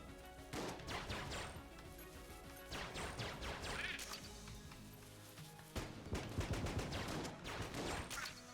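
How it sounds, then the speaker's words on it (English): Gunfire blasting through a table in the video game Enter the Gungeon, rapid clusters of crunchy shots and impacts in bursts over background music, with a louder, denser stretch near the end. "Fire it straight through the table."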